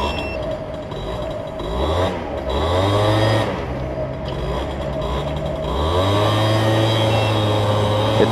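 A scooter fitted with a smaller 13-inch rear rim revs up on a test run, its engine note rising in repeated sweeps, loud and close with a steady drone between the climbs.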